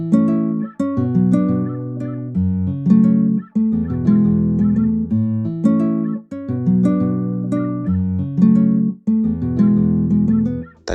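Dry, unprocessed guitar-style melody programmed in FL Studio for a dancehall beat, playing steady repeated plucked phrases with no added reverb or chorus, loud and alone throughout.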